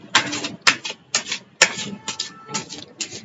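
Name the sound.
shuffling a deck of cards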